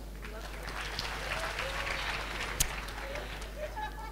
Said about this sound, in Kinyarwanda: Si byose mwabihaye amashyi.